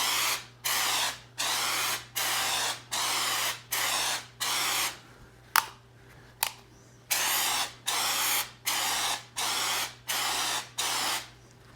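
Texture being sprayed onto a ceiling during a repair, a series of about a dozen loud hissing bursts from a spray gun, each lasting under a second with short pauses between, over a steady low hum.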